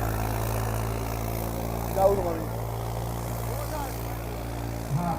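A tractor stuck in the field, its engine running with a steady low idling drone at moderate distance, with a couple of brief knocks and faint voices in the background.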